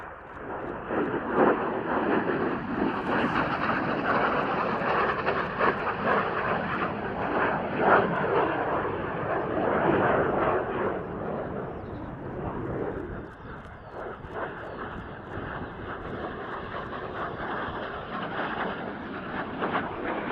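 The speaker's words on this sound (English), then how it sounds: "Cessna-built aircraft, built for the training role and introduced in 1954" A Cessna-built training aircraft, introduced in 1954, flies overhead at the RAAF Edinburgh airshow, a sustained engine roar that swells and fades slightly with wind buffeting the microphone.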